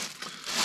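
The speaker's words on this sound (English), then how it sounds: "But I'll put each piece in plastic bag" Thin plastic bag crinkling while an item is packed, a brief, close, bright rustle that swells toward the end.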